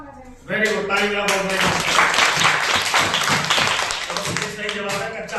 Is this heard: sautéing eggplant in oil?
no